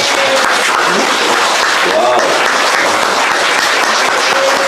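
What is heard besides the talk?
audience applause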